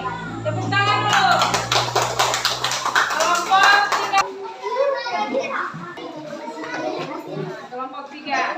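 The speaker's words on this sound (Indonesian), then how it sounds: "Tepuk tangan dulu." A group of children in a classroom claps together in a burst of rapid, overlapping hand claps amid excited chatter, followed by voices talking.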